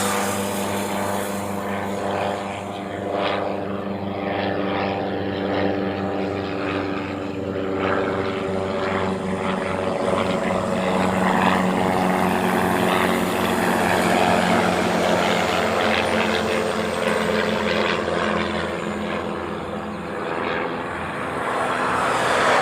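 An aircraft departs from the reef runway at Honolulu airport, its engines a steady droning roar that holds fairly loud for over twenty seconds, swelling slightly midway, with no voices heard.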